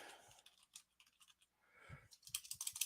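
Quiet, irregular clicking of computer keyboard keys in short bursts, faint and close, with no voices.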